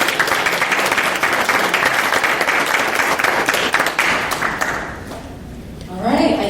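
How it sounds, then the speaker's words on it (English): An audience at a social media technology panel discussion in Detroit breaks into a loud round of applause, dense clapping that holds for several seconds and then fades out, with a voice speaking near the end. "Let's give another round of applause."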